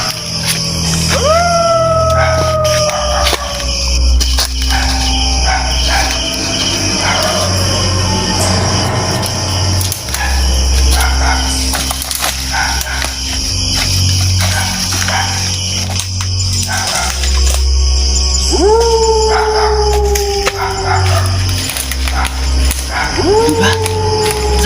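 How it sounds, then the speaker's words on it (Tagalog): A dog howls in a Filipino horror drama scene, with two long rising-and-sagging howls near the start and again near the end over a low droning bed, while people talk between them. "Aso lang yan. Ganyan talaga ang mga aso."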